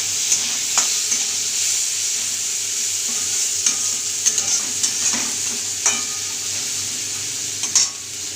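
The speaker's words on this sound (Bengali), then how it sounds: "এটাকে ভালো করে ভেজে নেব।" Chopped onions, a bay leaf, nigella seeds and cut chillies fry in oil in a pan. A steady close-up sizzle runs throughout, with a few scraping stirs and light utensil clinks along the way.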